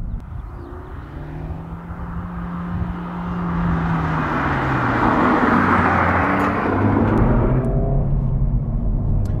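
A Honda Civic Type R FL5 drives along a road, a steady engine drone and tyre roar that swells louder partway through, heard from inside with rising pitch sweeps.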